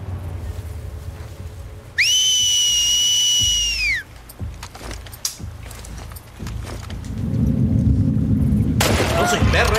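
A character in The Last of Us Part II gives one sustained two-tone whistle lasting about two seconds, loud and clear, followed by in-game rustling and background noise.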